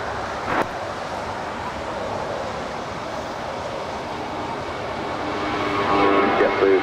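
An Alaska Airlines jet rolls for takeoff on runway 25 right at LAX, a loud, steady broadband engine roar that holds throughout and swells slightly toward the end.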